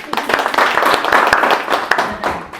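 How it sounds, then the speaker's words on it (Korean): A church congregation claps during a retreat sermon, a dense, steady patter of many hands filling the room, close and fairly loud, with some voices mixed in underneath. "박수."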